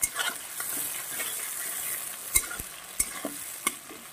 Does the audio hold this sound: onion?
yes